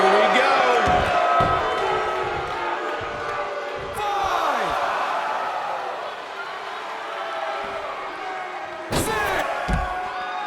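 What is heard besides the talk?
crowd cheering in a wrestling video game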